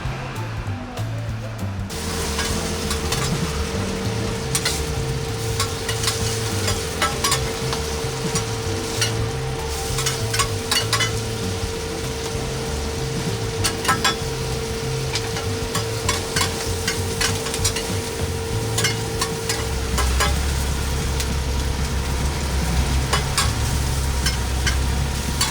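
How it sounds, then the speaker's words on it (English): Rice noodles stir-fried for Pad Thai, a continuous loud sizzle with scraping and stirring in the pan that lasts the whole stretch, alongside a steady hum and faint background voices. "The dish is made by stir-frying rice noodles"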